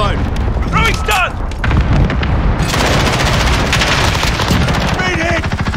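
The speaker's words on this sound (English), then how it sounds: "Enemy cluster strike incoming." Loud, dense Call of Duty Modern Warfare battle noise: cluster strike explosions booming among sustained bursts of automatic gunfire, with radio-style voice callouts heard over the din.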